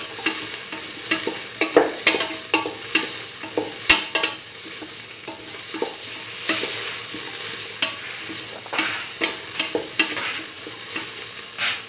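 Curried egg and mung bean stew being stirred and sautéed in a pan: a steady sizzle runs throughout, broken by frequent irregular scrapes and clacks of the spoon against the pan, close and with no talking.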